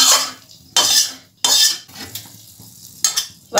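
Fried vermicelli is tipped from a ghee-fried pan into a pot of milk for a sweet dessert, with several loud metallic scraping and clattering bursts of a spoon against cookware, separated by quieter gaps and no voices.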